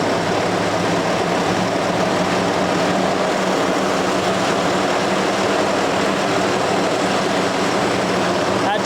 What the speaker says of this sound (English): As you increase RPM, it will increase by 50 RPM every time you push this switch up.